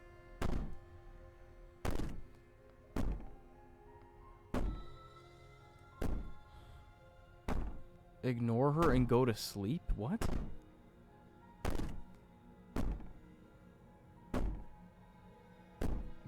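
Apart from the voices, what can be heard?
banging on the cabin from the video game Slay the Princess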